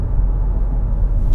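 Steady low road rumble of tire and wind noise inside a 2021 Hyundai Elantra Limited at highway speed, an even, subdued drone with no talking.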